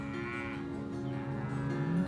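A beef cow on a ranch pasture gives a single drawn-out moo, clear and moderately close, with no talking over it.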